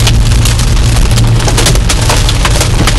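Dense, loud hail hammering a car's body in a continuous rattling roar, hard pellets clattering nonstop on metal and glass all around, during a hailstorm in Locust Grove, Georgia.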